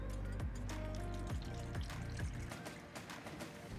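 Water running into a foam gun bottle during car detailing on a BMW E30, with a steady rushing, splashing fill and a few clunks of handling, no talk.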